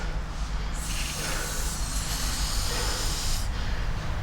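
Aerosol spray hissing steadily for a few seconds, used while removing an injector from a 2.0 Vauxhall Vivaro van engine, close and continuous over low background rumble.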